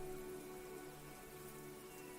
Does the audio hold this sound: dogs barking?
no